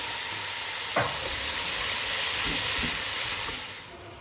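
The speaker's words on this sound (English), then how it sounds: "Try and get them all in the pot, not all over the floor. You're going to mix that in." Carrots stirred through caramelized sugar in a pot over heat make a steady loud sizzle and hiss, with a spoon scraping and clinking a few times partway through, and no voices.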